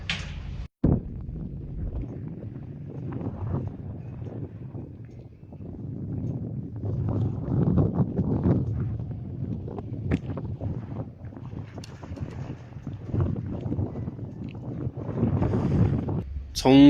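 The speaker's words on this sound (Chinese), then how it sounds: "沿途都是大风" Strong wind on a high-altitude road trip in Tibet buffets the microphone in heavy rumbling gusts that swell and fade throughout, with a voice talking at moments underneath.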